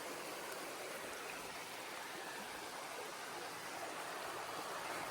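A mountain creek on rural land near Andrews, North Carolina, flows in a steady, dense rush of water, loud and continuous, with no voices.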